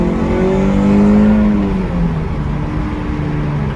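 Toyota MR2 with a 1ZZ engine and MWR intake accelerating, a loud near engine note whose harmonics rise steadily then dip and resume, with no talk.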